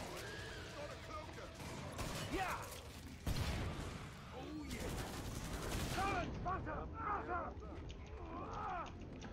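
Rifle gunfire in a first-person shooter video game, a scattered series of sharp shots and mechanical clatter of moderate loudness, with game effects and a voice talking intermittently underneath.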